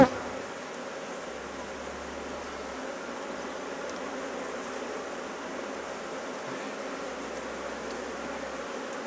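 Honey bees buzzing around an opened hive after colonies are united with a new queen, a dense steady drone of many bees close by with no pauses.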